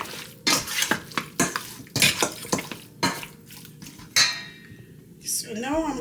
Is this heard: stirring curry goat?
yes